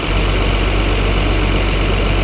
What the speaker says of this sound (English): a Dodge Durango with engine tick